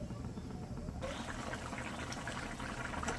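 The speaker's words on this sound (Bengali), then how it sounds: "দিয়ে দেবো পরিমাণ মতো জল।" Water pours steadily and fairly loudly into a cooking pot of potatoes for rohu fish curry, a continuous filling gush with no speech.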